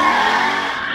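A 2007 Chrysler 300C launches with a loud, sustained tire squeal and engine roar. The sound is close and intense for about a second before it cuts off sharply.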